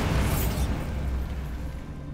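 Bombarda blasting spell going off in Hogwarts Legacy: a loud booming explosion that fades into a rumbling decay, with no voices over it.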